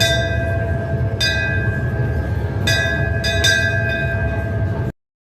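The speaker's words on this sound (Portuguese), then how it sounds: "O sino que eu acabei de tocar servia principalmente para alerta e comunicação a bordo" A ship's bell at a Titanic exhibition in São Paulo rings with a sustained metallic tone and several sharp strikes that layer over the drone, close and loud, then cuts off suddenly.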